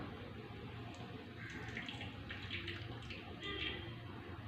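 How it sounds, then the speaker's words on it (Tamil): Hot herbal hair-dye decoction poured and strained through a filter, a soft steady trickle of liquid with faint splashing, quiet and continuous. "டிக்காஷன் வந்து நம்ம வடிகட்டி எடுத்துக்கலாங்க. வடிகட்டி ஆற வைக்க போகிறோம்."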